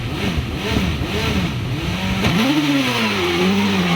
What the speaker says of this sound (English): It's the best launch so far from the 32-year-old, and the Gould NME V8 rockets up into Hall Bend